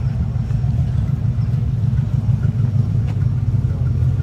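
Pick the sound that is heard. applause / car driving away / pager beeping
car driving away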